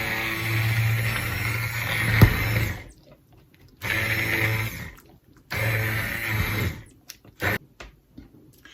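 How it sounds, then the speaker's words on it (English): An immersion blender whirs through sweet potato soup in a home kitchen, a loud motor drone in three bursts separated by quiet pauses, followed by a couple of short final pulses. "So let me get this blended up and we'll have a little taste test."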